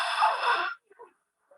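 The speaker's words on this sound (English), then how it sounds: "I'm intentionally restricting my throat pathway to make that whisper sound." Whispered ujjayi exhale with the mouth open, air pushed through a deliberately narrowed throat: a single loud, breathy hiss lasting under a second, then a few faint soft noises.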